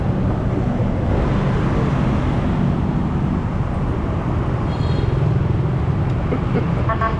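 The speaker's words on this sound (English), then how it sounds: "I've ordered a motorbike taxi." A motorbike taxi carries its rider through Vietnam traffic, with a continuous rumbling engine and road noise close by and steady wind-like roar throughout.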